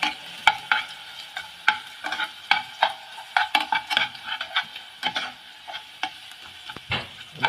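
Garlic frying in a pan while being stirred for a baked pasta and meat casserole: a quick run of close clattering spoon scrapes and taps over a light sizzle, with no talking.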